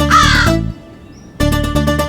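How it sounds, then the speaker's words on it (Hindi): Crows cawing loudly and close by in two harsh bursts, separated by a brief quieter gap. "इन पंछियों की स्वतंत्र और उन्मुक्त चहचहाहट"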